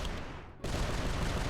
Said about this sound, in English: Just throw some grenades at it.